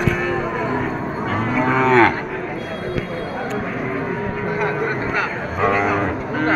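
Cattle moo repeatedly at a busy village cattle market, several long drawn-out lowing calls close by over a constant crowd murmur and background chatter.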